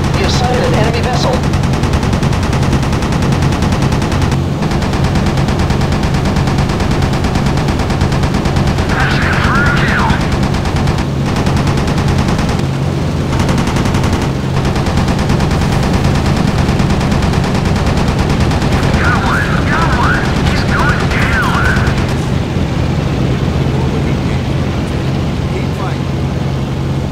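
Rapid machine gun fire and gunfire in the naval combat video game Battlestations Midway, a dense, loud barrage running continuously throughout with engine and water noise, while voices talk over it.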